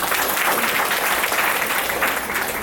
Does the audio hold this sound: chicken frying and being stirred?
no